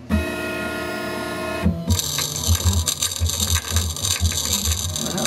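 A CNC machine engraves a taped-down glass mirror, a short whirring tone giving way to a busy, rapid ratcheting chatter as the bit digs in, close and continuous.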